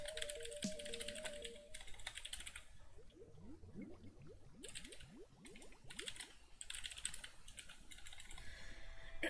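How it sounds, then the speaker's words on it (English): A computer keyboard is typed on in quick, crisp bursts of clicking keys for close ASMR, with brief pauses between runs and no talking. "ready for keyboard ASMR?"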